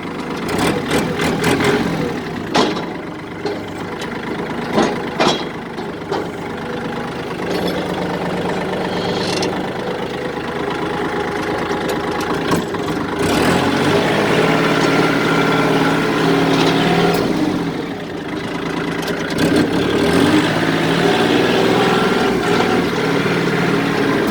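A 2020 Kubota 40-horsepower tractor engine runs steadily at close range, a loud, even diesel drone with a few sharp clanks near the start.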